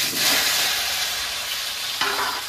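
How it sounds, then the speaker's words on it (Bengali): Boiled taro and potato stirred and fried in a hot pan, a steady close sizzle with a scraping stir partway through, no voices. "কচু আলুটা দিয়ে দিয়েছি, নেড়ে চেড়ে একটু ভেজে নেব"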